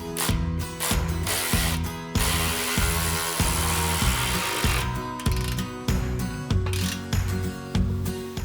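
Ratchet tightening an exhaust clamp onto the muffler of a Jeep during an AWE axle-back exhaust install, sounding as a rapid series of sharp metallic clicks in repeated bursts, close and loud.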